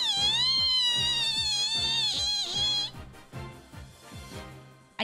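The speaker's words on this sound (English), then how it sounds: "I called my cat over." A pet cat gives one long, drawn-out meow that wavers in pitch, heard close and loud over rhythmic background game music.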